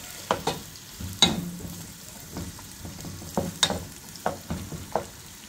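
Soft sizzle of onion frying in a pan under repeated clinks and scrapes of a utensil stirring, with sharper knocks every second or so.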